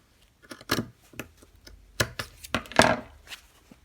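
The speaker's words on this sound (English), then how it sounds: "I'm gonna come in at an angle with my scissors and I'm cutting at 1/4 of an inch" Scissors trimming fabric seam allowances on a skirt waistband, a series of short crisp snips and blade clicks at an uneven pace, close up and alone.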